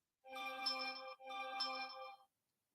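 Phone notification chime sounding twice in a row, two clean harmonic tones of about a second each with a short gap between them, close and clear with no talking.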